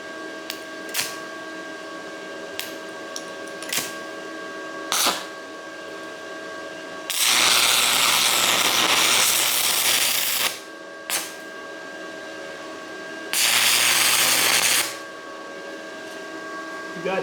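An Excellway 200A inverter welder welding 1/8 inch steel plate, with two loud sustained bursts of crackling arc noise over a constant electrical hum, broken up by brief clicks and knocks.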